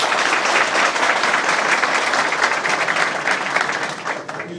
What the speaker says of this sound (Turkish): kaymakamımıza bir büyük bir alkış istiyoruz